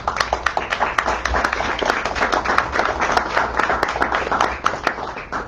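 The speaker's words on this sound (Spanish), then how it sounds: "Un aplauso para..." An audience applauds at a Puerto Rico book presentation on the poultry industry, with sharp, closely spaced claps forming steady, moderately loud applause that stays fairly even throughout.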